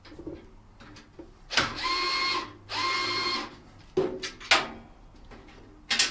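Electric screwdriver driving out screws while a PoE network switch is removed from a rack, giving two sustained whirring bursts of about a second each, followed by short clicks and handling knocks, close and fairly loud against a quiet room.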